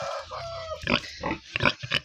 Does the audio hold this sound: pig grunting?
yes